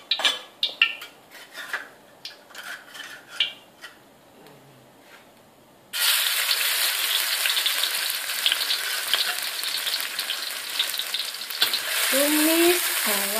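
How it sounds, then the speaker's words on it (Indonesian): Shallots and garlic sautéing in a pan: first sparse clinks and taps of cookware, then a sudden loud, steady sizzle as they hit the hot oil, with stirring scrapes late on, no talking. "Tumis bawang merah bawang putih sampai harum."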